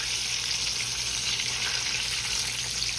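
Blueberry fried pies sizzle in hot oil in a pan, a steady, close, even frying hiss that holds without a break and carries no speech.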